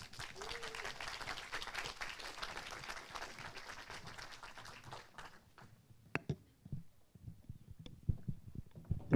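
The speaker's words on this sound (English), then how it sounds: "give a big amount of applause to our Master of Architecture, Ananya Singhal." An audience at an architecture lecture applauds: a dense, steady wash of clapping that thins out after about five seconds into scattered claps and small room noises, heard at moderate distance.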